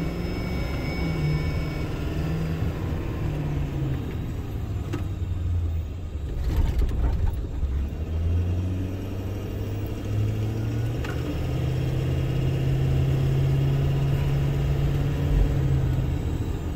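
A Ford Powerstroke 6.7L diesel truck coming out of limp mode drives along with a steady low engine rumble, loud and continuous, rising slightly in pitch partway through as it moves.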